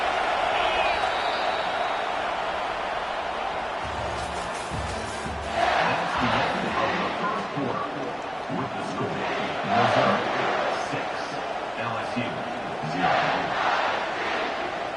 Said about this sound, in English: This crowd going to try to make life miserable